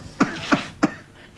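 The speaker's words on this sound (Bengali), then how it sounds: "একটু আস্তে কাশতে পারবে?" An elderly man coughs three times in a row, evenly spaced, each a short sharp burst at close range, followed by a quieter fading breath.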